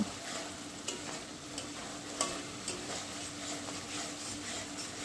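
Turmeric is stirred into water in a pan for an okra and poppy seed dish, giving a soft, continuous bubbling simmer with faint utensil taps scattered throughout, and no talking.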